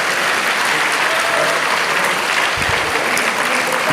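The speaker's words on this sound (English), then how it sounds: "Then we just give him the applause and say thank you for spending your morning with us." An audience at a university faculty institute applauds a speaker, sustained even clapping from many hands that stays loud and constant throughout, with no talk over it.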